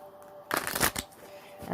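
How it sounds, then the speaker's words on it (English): Gilded Tarot cards being riffled and shuffled by hand, a dense burst of papery flutter mid-clip between quieter handling, close and fairly soft. "All right, one more shuffle, and I'll cut the deck."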